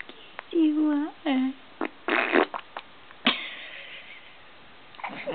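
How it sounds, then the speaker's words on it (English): A baby's short fart is heard among cooing infant vocal sounds and an adult's voice, a quick burst close by in a quiet indoor room. "Did you just fart?"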